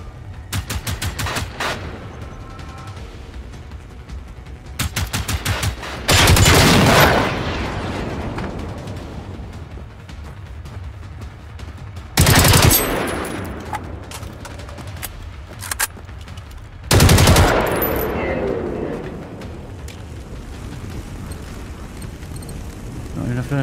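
Gunfire in the video game Generation Zero, with several loud bursts of shots separated by quieter stretches of background game sound.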